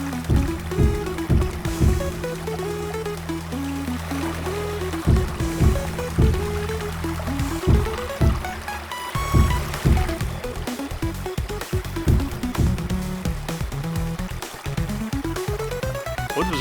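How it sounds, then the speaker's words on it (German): Water splashing and babbling in the block-building game Creativerse: Definitive Edition, a soft continuous liquid wash that sits beneath bright, tonal game music and repeated chiming notes. "Hey Freunde, es plätschert."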